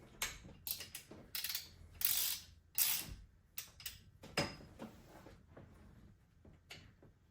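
A hand ratchet with a 14 mm socket loosens an alternator bolt on an engine, giving bursts of quick clicking in short strokes with small pauses between them, close and fairly quiet.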